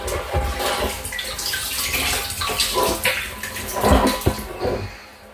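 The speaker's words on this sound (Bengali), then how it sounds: "দেখুন মাঝখান থেকে কীভাবে জল বেরোচ্ছে" Water gushes and splashes steadily as it drains out through the middle of a water tank during cleaning, a loud, continuous rushing flow heard close by with no voices.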